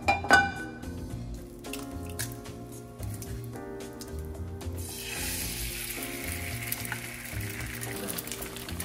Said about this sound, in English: so I heated up some sausage links